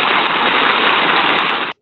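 A PowerPoint slide-transition applause effect plays as a dense, even burst of clapping for under two seconds, then cuts off abruptly, with no talking over it.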